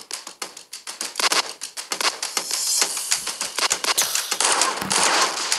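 Rapid automatic gunfire in a shooting video game, loud and close, with dense overlapping bursts that run almost continuously and no talk over them.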